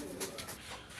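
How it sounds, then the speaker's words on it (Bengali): Red checker racer pigeons give soft, throaty coos in a brief burst, close by and fairly quiet, with no one speaking. "এখানে আরেক জোড়া আমরা রেসার কবুতর দেখতেছি, আর এটা হচ্ছে রেড চেকার"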